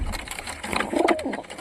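A pigeon gives a short, soft coo from close by, a single low throaty call lasting about a second within a brief clip, with no speech.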